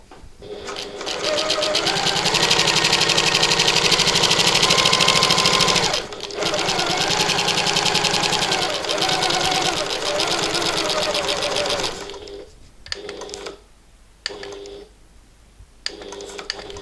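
A sewing machine runs a long stitch around all four sides of a bag, whirring steadily for about twelve seconds with one brief pause, then stopping into a few short bursts while a voice talks.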